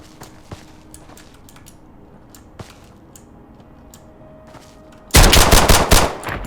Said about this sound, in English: every single round that you fire is an experience in this game